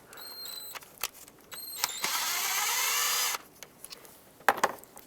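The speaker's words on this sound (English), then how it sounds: "With a 10mm socket, remove this bolt here." A power tool with a 10mm socket spins out a bolt on a 2003-09 Toyota 4Runner engine during spark plug replacement, giving one steady whirring burst of about a second, with light metallic clicks and handling noises before and after.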